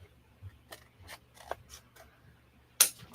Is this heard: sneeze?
no